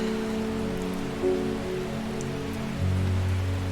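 Steady rain pattering on surfaces in the video game Strange Horticulture, an even wash of drops with no voices, holding at a constant level with a low tonal hum beneath.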